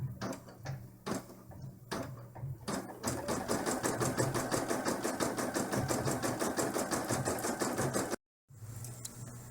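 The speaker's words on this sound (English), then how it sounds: "we are now going to do the satin stitching around each of the windows" An embroidery machine satin-stitches around felt windows on an in-the-hoop dollhouse bag, its fast, even needle pulses running close and loud, then stopping briefly before resuming.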